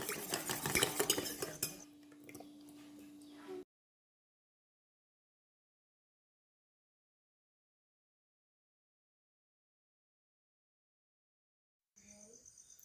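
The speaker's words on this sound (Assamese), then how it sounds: "এয়া ধুনীয়াকৈ কালাৰ মিলাই আছে।" A spoon clinks and scrapes in a bowl while food colouring is mixed into cake icing, busy for about three seconds, then a long silence and a brief return of soft stirring at the end.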